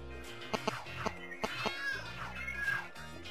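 A cartoon cat meows several times while being handed a fish in the video game Lego City Undercover, the short mews heard over steady game music and effects.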